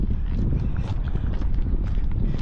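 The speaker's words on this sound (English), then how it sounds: "enjoy the sound of my footsteps" Footsteps of someone walking outdoors at a busy summer food festival in Calgary, a steady run of close, scuffing steps under a constant wash of crowd and street noise.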